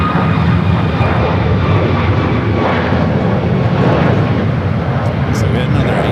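Asiana Airlines Airbus A350 jet at San Francisco International Airport producing a loud, continuous engine roar, close and powerful throughout, with a few faint higher sounds near the end.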